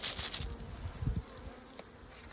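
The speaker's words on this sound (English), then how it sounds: "nice load of bees there." Honeybees buzz at a hive while a colony is boosted, giving a close, steady drone with brief louder passes as individual bees fly near.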